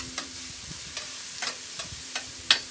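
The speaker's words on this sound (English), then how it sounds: "Just going to saute them for about one minute." Chopped onions and garlic sauté in a pan for a frittata, giving a quiet steady sizzle broken by sharp clicks and scrapes of stirring, close by, with no voices.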